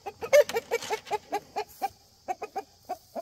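Close, distinct clucking from a rooster, a string of short rhythmic calls with a brief pause before more follow.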